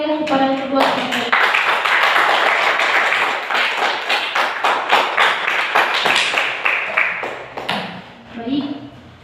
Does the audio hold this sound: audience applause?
yes